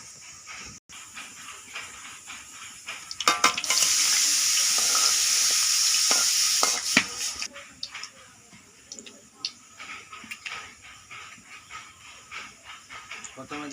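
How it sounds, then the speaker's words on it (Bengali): Dry red chillies, bay leaves and cloves hit hot oil in a wok, bursting into a loud, steady hiss that lasts about three seconds before dropping to a softer crackle with light kitchen clatter. "কড়াই দিয়ে দিলাম শুকনো লঙ্কা, তেজপাতা, লং,"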